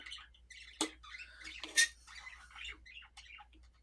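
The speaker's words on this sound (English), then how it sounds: "The birds are talking." Pet parakeets chirp and squawk indoors in a quiet room, a busy stream of short high tweets and chatter with two sharper loud squawks, close by and with no talking.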